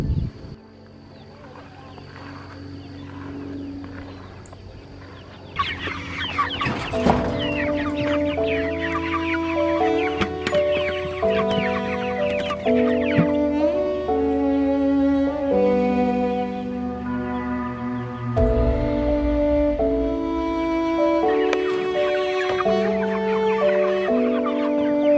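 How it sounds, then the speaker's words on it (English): Chickens clucking on a garden homestead, scattered short calls mixed with steady melodic background music that runs through most of the stretch. "You take care of the chickens?"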